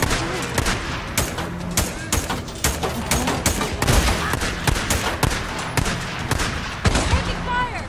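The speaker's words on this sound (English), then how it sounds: "Taking fire!" Gunfire in the Days Gone video game: dense, rapid bursts of shots crackle and boom nonstop, loud and close, with overlapping volleys that sound like automatic weapons.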